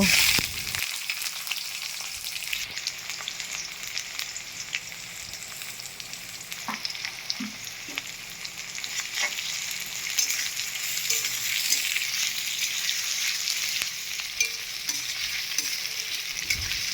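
Dry red chilli, bay leaf, whole cumin and chopped onion frying in hot oil for a fish curry, a steady close hiss of sizzling throughout with occasional stirring scrapes, no talking.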